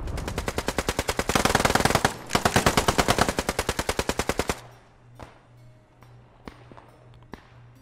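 Rapid machine gun bursts in the Post Scriptum Fall of France battle, a long loud rhythmic stream of shots with a brief pause, then several sparse single gunshots over quieter ambience.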